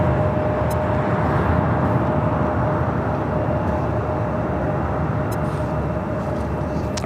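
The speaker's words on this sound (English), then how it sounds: "This is Southwest Airlines 3603 taking off to Dallas Love Field on a" A Southwest Airlines Boeing 737-800 taking off at LAX, a loud, steady broadband jet roar with a faint whine, heard from outside with no talking.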